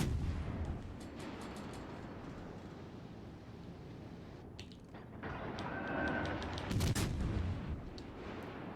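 Cruiser guns firing in World of Warships Legends, heavy booming shots and rumbling impacts over a steady low background roar, with a louder cluster of blasts near the end.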